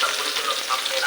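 Chopped onion hits the hot oil in a karai, producing a brief, steady, hissing sizzle up close with no talk over it.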